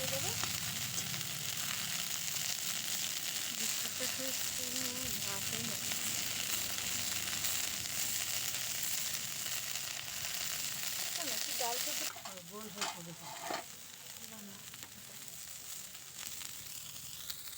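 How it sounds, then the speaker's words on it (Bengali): Cauliflower florets fry in hot mustard oil in a kadai, giving a continuous close sizzle with occasional stirring clatter; the sizzle eases somewhat partway through. "এখন কপিগুলো তেলের মধ্যে দিয়ে হালকা ভেজে নেব"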